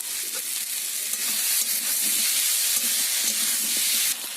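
Chickpeas and ginger paste stir-fry in a pan for a Bengali vegetarian dish, a steady bright sizzle with faint scraping strokes of a spoon beneath, continuous and close with no talking.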